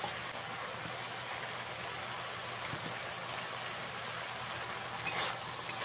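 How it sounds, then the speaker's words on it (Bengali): Water spinach (kolmi shak) greens fry and get stirred in a pan, giving a steady, even hiss of sizzling with faint scraping, moderately quiet and continuous, without speech. "এইভাবে কিছু সময় শাকটাকে আমি এইভাবে মিশিয়ে শাকটাকে ভেজে নেব"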